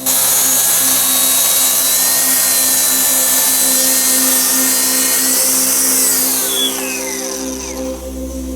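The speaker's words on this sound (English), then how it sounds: "Now I've got to adjust the track saw to suit, and I can trim off the excess" A track saw trims a wooden planter panel, its motor whining steadily at close range through the cut before the pitch shifts and the blade winds down near the end.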